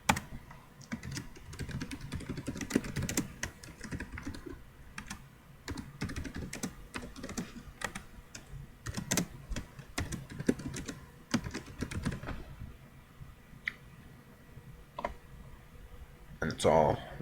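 Typing on a computer keyboard, with bursts of quick light clicks and taps spread across the whole stretch, close and fairly quiet, and pauses between runs of keystrokes.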